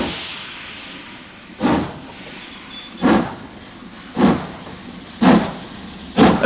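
A steam locomotive works along former Great Western track near Snow Hill in the Midlands, giving slow, evenly spaced exhaust chuffs about a second apart over a constant background hiss of steam, close and fairly loud.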